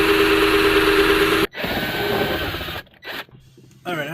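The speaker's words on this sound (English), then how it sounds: "I'll do a hole here and then put a bolt through so it presses this up against here" A power drill bores a hole to bolt a lithium battery in place on a 2008 Club Car: a steady, close motor whine that drops out briefly, returns, then stutters and cuts in and out near the end.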